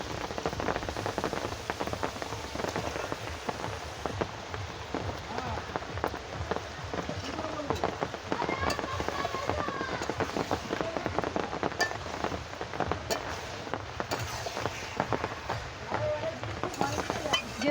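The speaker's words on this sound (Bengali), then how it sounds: "বৃষ্টিটা আর থামছেই না, এই জন্য এই সব হাওয়া হচ্ছে, বৃষ্টি হচ্ছে" Rain falling steadily outdoors on a windy day, a constant patter and hiss on surfaces at moderate loudness, with a voice talking faintly over it.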